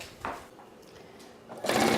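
A sewing machine runs in short bursts, a soft whirring stitch at the start and a louder, faster run of stitching at the end.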